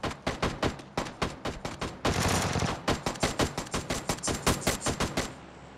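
Rapid machine gun bursts from a PUBG team deathmatch on the Sanhok map, loud repeated volleys of evenly spaced shots with a brief sustained roar in the middle, alone without talk.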